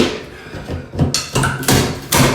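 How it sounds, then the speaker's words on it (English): A greased crowbar strikes bolts while an interior door frame is pried out during a remodel, giving several sharp metallic knocks and thuds in quick succession, close and fairly loud. "Got a bunch of grease on this crowbar. Using it on my bolts."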